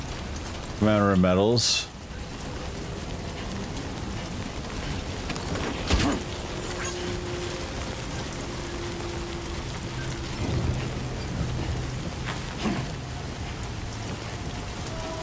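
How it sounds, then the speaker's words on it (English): Steady rain hisses continuously in the video game Death Stranding 2, a wide even wash of falling water with a few faint low rumbles, while a voice speaks briefly near the start. "So it's raining now, but we'll be okay for a little while."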